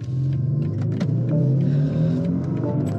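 A BMW XM and a Huawei Seres 5 launch side by side in a drag race, engines droning loudly and rising together in a rumbling surge, with faint clicks and whirs scattered on top and no voices.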